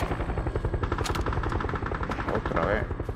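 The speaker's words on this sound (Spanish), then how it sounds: "el helicóptero" A helicopter's rotor chops rhythmically in the PUBG video game, mixed with bursts of gunfire and loud in-game action, while someone talks over it.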